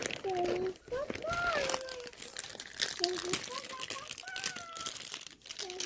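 Plastic wrappers crinkle and tear close up as surprise toys are unwrapped from a box, the rustling continuous under a child's and an adult's voices.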